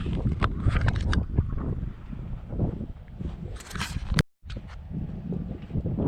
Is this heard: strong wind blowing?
yes